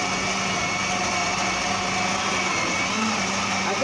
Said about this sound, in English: And I'm going to turn my blender on.